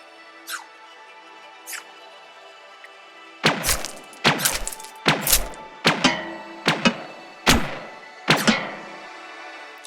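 Bullet material impacts in an Unreal Engine and Wwise shooter demo: two faint early ticks, then a rapid series of about eight loud, sharp thwacks and thuds with short decaying tails, heard alone without speech.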